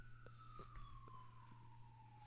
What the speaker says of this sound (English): I think the mics are picking up the sirens.